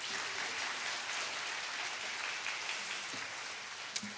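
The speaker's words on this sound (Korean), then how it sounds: "다시 한번 큰 박수 한번 부탁드립니다" Church congregation applauding at a Sunday service, a soft, even patter of many hands heard from a distance, with a faint thump near the end.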